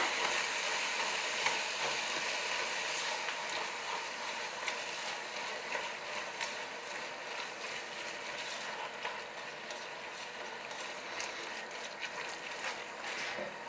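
Cabbage stew sizzling steadily in a pan while being stirred, a dense continuous frying hiss with faint scraping and clicking, fairly quiet and without talk.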